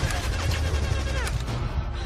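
Gunfire in the video game Battlefield, a dense loud burst of rapid shots with crashing impacts, filling the whole moment without any speech over it.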